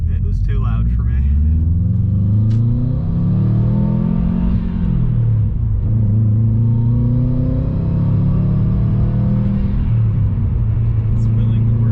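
A 2006 Subaru WRX with a JDM EJ205 engine revs loudly and close up, a deep continuous rumble whose pitch climbs and falls in several long sweeps.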